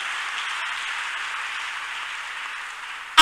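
Church congregation clapping in praise, a dense continuous wash of many hands applauding at steady volume, fairly close and without talk, ending abruptly.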